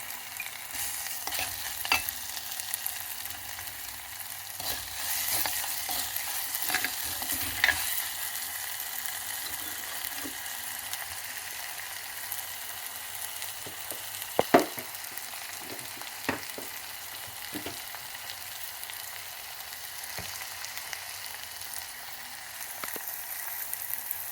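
Rasam ingredients frying in a pan at home, a steady soft sizzle under repeated scraping and stirring strokes of a spoon, with occasional sharper clinks and pops across the whole stretch.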